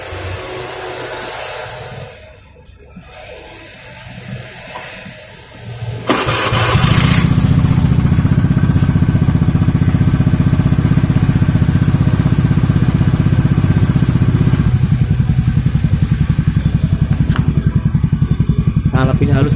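Honda Beat scooter with a Tsukigi exhaust and fresh glasswool packing, idling quietly at first, then revving up into a loud, steady, sustained drone that holds to the end.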